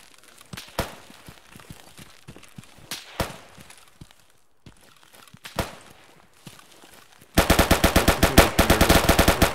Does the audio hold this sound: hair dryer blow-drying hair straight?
no